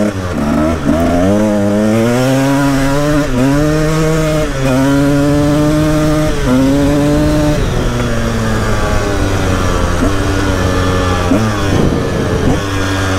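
A loud Husaberg TE 300 dirt bike engine revs and drops through gears, pitch repeatedly climbing then falling as it downshifts, close and continuous.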